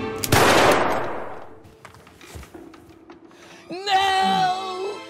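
A single loud gunshot from a cursed gun in a comedy sketch cracks out near the start and rings off, followed by quieter movement and a brief tonal sound near the end.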